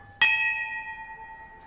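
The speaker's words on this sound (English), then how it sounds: "And we have this bell." A single struck temple bell rings out with a sharp metallic strike and a long, clear, slowly fading tone, heard alone and close.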